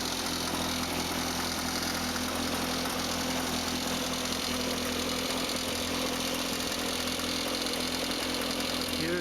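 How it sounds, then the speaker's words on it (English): Home-built tractor with a snowplow attached, its engine idling steadily at low volume with a constant rumble and no voices. "Here's another view of the tractor with the snowplow attached."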